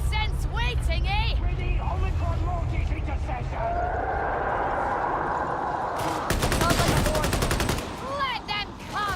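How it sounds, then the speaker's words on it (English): Rapid automatic gunfire from a gun in Warhammer 40K Darktide, a dense burst of fast shots rattling for about two seconds amid layered game sounds, with a voice talking over the action. "Oh, I like this gun. It goes brr."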